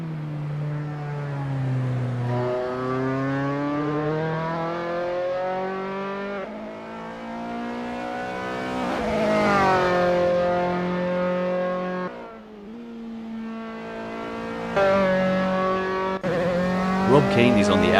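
Dallara formula race car from Assetto Corsa on an outlap, its engine loud and continuous with sweeping revs rising and falling through gear changes, a person talking over it throughout.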